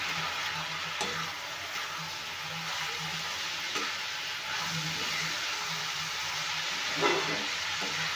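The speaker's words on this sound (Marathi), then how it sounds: "तर कांद्यासोबतच आता मी 2 टोमॅटो छान बारीक चिरून घेतले आहे, ते पण घालते, म्हणजे छान नरम होतील." Two finely chopped tomatoes go into onions frying in a pan, giving a steady close sizzle with soft stirring scrapes and occasional clinks.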